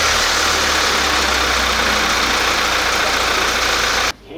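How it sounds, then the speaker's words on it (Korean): A used Hyundai Maxcruz 2.2 engine idling just after starting, a loud, even mechanical hum with a faint knocking texture that holds steady, then drops off abruptly near the end. "시동 걸었죠?"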